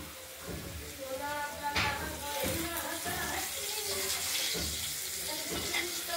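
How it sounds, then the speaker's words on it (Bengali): Potatoes fry in hot oil with cumin, dried chili and bay leaf, giving a steady, close sizzle with occasional stirring scrapes, while a voice talks faintly underneath. "এটা ফোড়ন দিয়ে আমরা আলুগুলোকে ভেজে নিচ্ছি"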